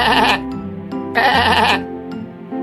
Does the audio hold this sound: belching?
no